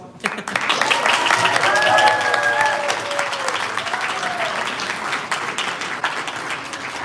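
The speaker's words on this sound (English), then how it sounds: "You can applaud now at that if you want." Audience applause at a student officer elections event fills the room, a dense sustained wash of clapping with a few whoops and cheers mixed in.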